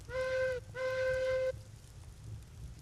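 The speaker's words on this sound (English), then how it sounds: "Where's my whistle anyway?" A steam locomotive whistle in Railroads Online blows two long, steady blasts with a brief gap between them, then cuts off, leaving a quiet rumbling background.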